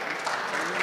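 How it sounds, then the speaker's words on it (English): A brief burst of steady audience applause at a Sikh community honoring event, dense and fairly close, cut off after under a second. "Please give him a round of applause."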